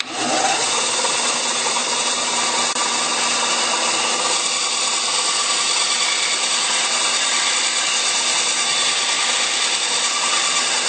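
A bone banjo nut blank is sawn close to a marked line, a steady, continuous rasping cut heard up close and loud for the whole stretch with no talking.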